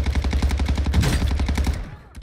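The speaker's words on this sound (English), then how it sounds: "Just constant gunfire and just bodies dropping." Constant gunfire in a shooter video game, with rapid, loud, evenly spaced shots that run continuously before tailing off at the end.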